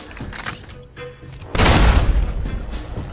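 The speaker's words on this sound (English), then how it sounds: "Oh, that's a grenade, that's a grenade." A grenade explodes in the Fallout 3 video game, a sudden loud boom that cuts in midway and rumbles on with crashing debris, after a quieter stretch of game sounds.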